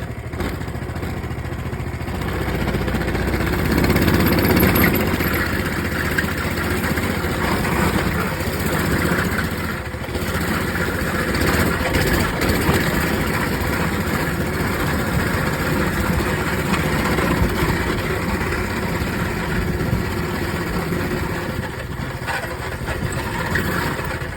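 A freshly started dirt bike engine idles while warming up, a loud, continuous, steady rumble close by that holds an even pitch with only slight surges throughout.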